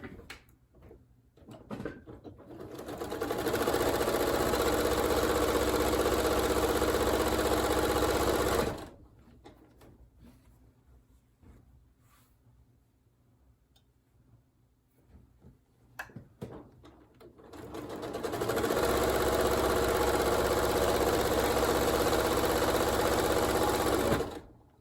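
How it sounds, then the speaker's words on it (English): A sewing machine stitches sets of quilt fabric together in two long, steady whirring bursts, each several seconds, separated by a quiet pause with faint handling of cloth. "I'm going to take those and sew those together"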